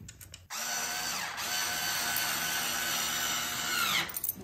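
Power drill driving screws into a handmade wooden cradle, a steady whirring drive lasting about three and a half seconds after a brief rattle, close and loud with no talk.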